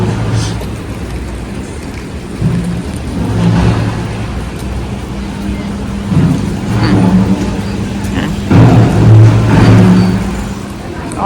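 Street traffic flows outside a Paris train station, a continuous wash of passing cars with swells as vehicles go by close. Crowd murmur and some talk sit underneath.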